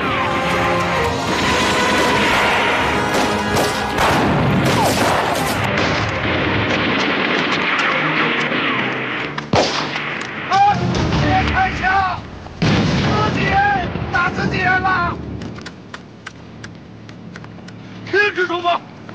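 Loud, dense gunfire and artillery in a wartime battle scene against Japanese troops, sustained volleys and blasts pounding continuously, then thinning into sharper scattered shots and cracks toward the end, with shouting mixed in.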